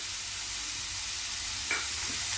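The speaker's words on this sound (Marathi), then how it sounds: "आणि परत या भाज्या चांगल्याच्या परतून घ्यायचं" Vegetables stir-fried in a pan for a veg spring roll filling give a steady, broadband sizzle throughout, with a brief stirring scrape near the end and no talking.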